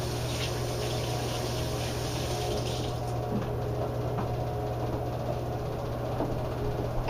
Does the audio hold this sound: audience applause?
no